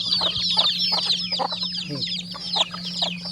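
Domestic backyard chickens clucking while fed paddy rice at evening, a busy overlapping flock of short clucks and chirps close by, over a steady low hum.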